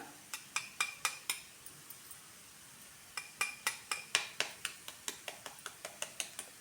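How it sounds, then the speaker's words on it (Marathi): Eggs cracked one at a time into a pan of chopped onion over a low flame: sharp, clicking taps on the pan rim come in two quick rhythmic bursts, close and crisp, separated by a brief quiet pause. "आता आपल्याला एक एक अंडं फोडून टाकायचं याच्यामध्ये"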